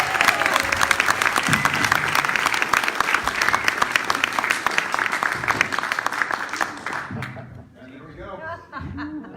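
A rally crowd applauds an Assemblymember at a clean money campaign event: loud, dense clapping with scattered cheers and laughter for about seven seconds, then tapering off as a voice begins speaking.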